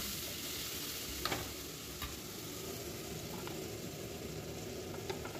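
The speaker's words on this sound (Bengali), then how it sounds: "তেলের মধ্যে আমি 5 ফোড়ন সম্বরা দিলাম এবং কিছুটা পেঁয়াজ কুচিয়ে ভেজে নিলাম" A steady, quiet sizzle of chopped onions and panch phoron five-spice frying in oil continues throughout, with a few faint ticks and stirring scrapes.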